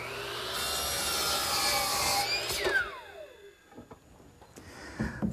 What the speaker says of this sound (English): Now I'll just trim it to length at the miter box.